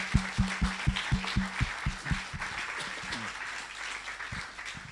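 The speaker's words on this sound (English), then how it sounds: "deserve again another round of applause" A small audience at an online community meeting claps, with distinct, rhythmic hand claps sounding near and fairly loud at first, then thinning out and tapering away to a few scattered claps.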